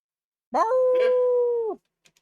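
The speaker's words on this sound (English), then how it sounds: "please excuse any dog howling." A dog lets out one sustained, close howl lasting just over a second, rising slightly at the start and dipping at the end, followed by near silence with a couple of tiny soft sounds.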